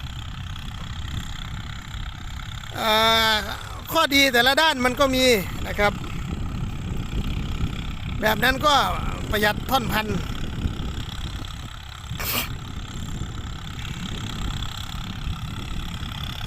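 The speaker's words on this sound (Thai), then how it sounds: "รถไถเดินตามนะ" A walking tractor's small engine runs at a steady idle throughout, a continuous mechanical hum underneath someone talking.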